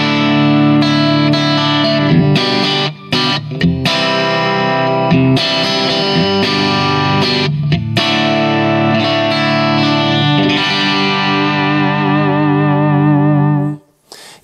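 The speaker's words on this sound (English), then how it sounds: "if I want a more aggressive compressor sound" A clean electric guitar played through an Origin Effects Cali76 compressor set aggressively, with the instrument level and output turned up. Sustained, full-sounding chords ring loud and steady for about fourteen seconds, with brief gaps between strums before a final cutoff.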